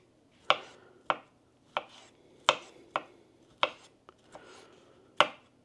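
Small deli sausages are being chopped into pieces on a board: about nine crisp, distinct knife strikes at an uneven, unhurried pace, close up, with no talking.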